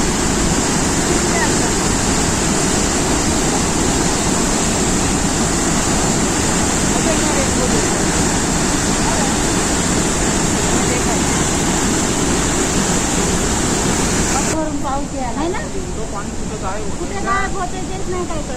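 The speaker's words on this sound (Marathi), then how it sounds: "सुंदर धबधबा आहे बघा हा वॉटरफॉल" Davis Falls in Pokhara, Nepal, roars as a loud, continuous rush of falling water that plunges into a hole in the ground, a dense steady wash heard close by throughout.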